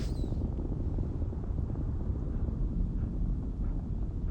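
A glitchy engine hum echoes through a hollow tunnel in the game Starfield, heard as a steady, loud, low rumble with a windy roar that runs unbroken throughout.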